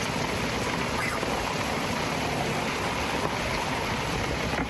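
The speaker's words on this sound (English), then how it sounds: "It's raining again." Steady, dense rain hisses continuously on a sailboat on the Intracoastal Waterway in South Carolina, a broad wash of noise with no pauses or voices.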